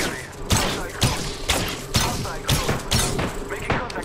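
Rapid gunfire in Apex Legends, loud and close, with heavy bursts repeating roughly every half second over a dense clatter of shots and impacts.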